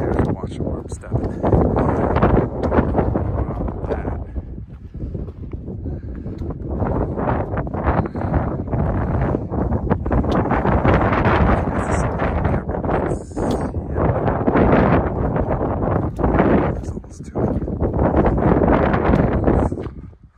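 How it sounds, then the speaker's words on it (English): Gusty wind buffets the microphone on the exposed Franconia Ridge hiking trail, a steady loud rush that swells and eases over the whole stretch with no clear talk. "Bit of wind right now. It's in gusts, so as it goes."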